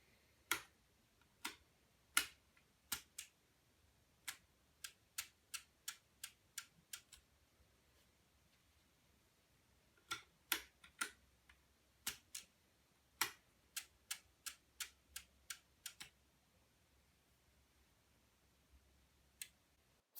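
An electromechanical relay computer clocked by a 555 timer board clicks in sharp, crisp snaps, about thirty separate clicks spread over twenty seconds in uneven clusters and pauses, close and isolated against near silence.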